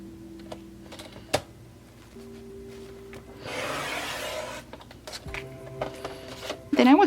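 A paper trimmer slices paper for a slimline envelope in a single smooth, rasping cut lasting about a second, with soft tapping and handling noises before and after, and a voice speaking nearby.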